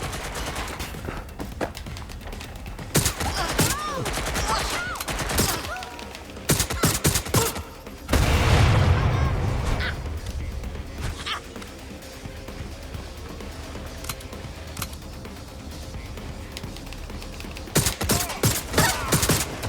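Gunfire in the video game Watch Dogs Legion: bursts of rapid shots and single cracks scattered across the stretch, with louder clusters at the start and end and a rumbling blast partway through.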